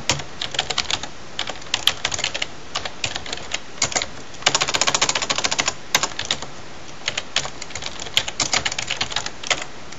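Fast, steady typing on a computer keyboard as a command is entered, with close, sharp clicks in bursts and short pauses, plus a dense flurry midway through.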